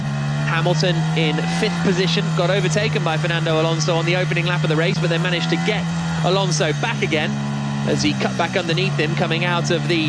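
Formula 1 cars circulating behind the safety car at the 2022 Japanese Grand Prix, a steady engine drone running under continuous commentary throughout.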